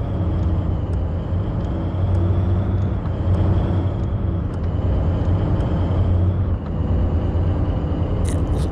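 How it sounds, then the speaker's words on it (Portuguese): Truck engine in Truck & Logistic Simulator revving and accelerating on its own, a loud, steady low rumble that swells and holds, with a brief dip near the end. "Olha o caminhão acelerando sozinho"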